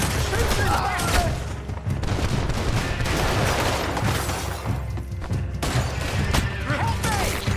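Gunfire erupts in a Red Dead Redemption 2 shootout: dense, loud, continuous volleys and rapid shots overlap almost without a break, with character voices shouting underneath.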